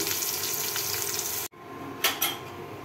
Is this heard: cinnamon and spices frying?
yes